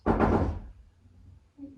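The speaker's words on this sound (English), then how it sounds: "Someone's at my door, very alarming." A quick run of loud knocks on a home door, sharp and close at the start, then fading into a quiet room with a faint tone near the end.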